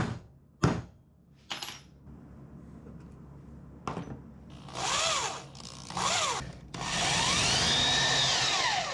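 A power drill bores a hole for a roof shower on an overlanding vehicle, with sharp clicks and short bursts before whining runs that rise and fall, ending in a long sustained spin.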